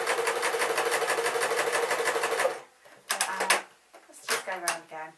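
A domestic sewing machine running a hemming stitch on a pink dress, rapid even needle chatter for a couple of seconds, then stopping as a voice talks close by.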